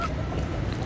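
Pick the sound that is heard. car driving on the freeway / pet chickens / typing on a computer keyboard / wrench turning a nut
pet chickens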